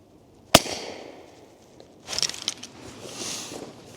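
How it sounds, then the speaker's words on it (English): A suppressed De Lisle carbine fires one shot down range on an outdoor range, a single sharp, muffled crack followed by brief mechanical clicks and rustling. "Let's go ahead and shoot one down range."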